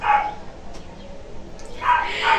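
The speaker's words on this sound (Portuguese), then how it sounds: "Tem um cachorro latindo" A dog barks a couple of times at moderate distance, short sharp yelps separated by a quieter pause with faint background noise.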